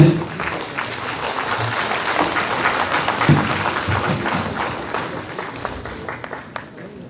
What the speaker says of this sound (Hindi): जोरदार तालियां बजती रहें।